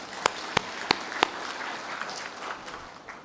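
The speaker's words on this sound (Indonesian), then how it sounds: "Mari kita berikan aplaus untuk mereka." An audience at a college graduation ceremony claps for the graduates: a few sharp, distinct claps ring out first, then spread into a soft, steady wash of applause across a large hall.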